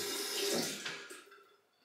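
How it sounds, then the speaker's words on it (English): Running water splashes as a Rockwell Model T safety razor is rinsed under a tap, loudest at first, then fading away as the flow eases off. "Quick rinse under the water."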